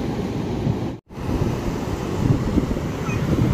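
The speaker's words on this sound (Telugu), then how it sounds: "అలలు అయితే రాను రాను చాలా పెద్ద పెద్దగా వస్తున్నాయి" Ocean waves on a beach, building larger over time, give a loud, continuous wash of surf mixed with wind buffeting the microphone, broken by one brief dropout.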